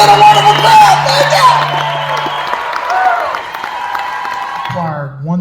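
A concert audience at The Carolina Opry in Myrtle Beach, South Carolina applauds, loud sustained clapping and cheering that carries on under sung and spoken voices before tapering off near the end.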